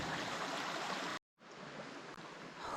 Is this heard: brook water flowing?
yes